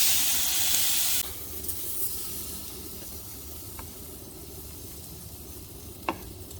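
Vegetables sizzle on a griddle over high heat, starting with a loud burst of hissing steam that settles into a steady, quieter frying crackle, broken by a couple of brief utensil clicks.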